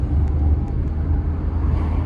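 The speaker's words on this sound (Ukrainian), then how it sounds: "Добавляємо газку і впевнено їдемо" Car engine during a driving lesson on a test route in Bila Tserkva, heard as a steady, loud low rumble from inside the cabin with road noise.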